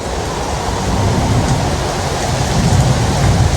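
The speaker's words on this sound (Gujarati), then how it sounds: "ગાજે છે ને વરસાદે પડે." Heavy rain pours down steadily while thunder rumbles low and deep beneath it, loud and close, with no voices.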